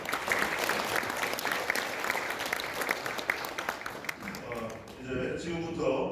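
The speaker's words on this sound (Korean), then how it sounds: "우리 서로에게 격려와 응원의 박수를 보내주시면 감사하겠습니다" Audience applause fills the hall at the launch ceremony of a Korean citizens' association, a dense steady clatter of many hands that fades near the end as a voice begins speaking over it.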